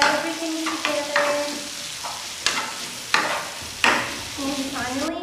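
Moroccan bell pepper salad (touktouka) with tomato paste is stirred in a pan, giving repeated clattering knocks and scrapes of the utensil over a soft sizzle.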